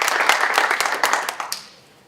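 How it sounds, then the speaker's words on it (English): A short burst of applause for a student at a university senate meeting, a small group clapping briskly for about a second and a half before fading out. "I will also give her a round of applause to recognize her."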